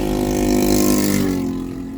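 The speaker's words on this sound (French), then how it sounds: "Pardon pour la moto" A motorcycle engine rumbles close by on a street outside a school, its steady mid-pitched drone loud throughout and easing slightly toward the end, with no talk over it.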